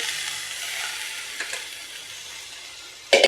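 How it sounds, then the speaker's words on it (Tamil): Boiled chickpeas tipped into a pan of frying masala give a steady, moderately loud sizzle, with a brief louder burst at the end as they land. "போட்டுட்டு இப்போ சுண்டலை உள்ளே கொட்டிடலாம்."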